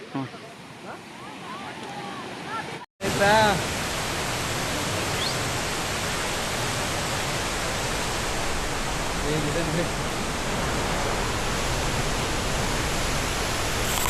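A steady, loud roar of a rushing waterfall near Devirammana temple, Chikmagalur, Karnataka, fills the scene after a brief cut, a constant broadband wash with faint voices briefly audible at the start.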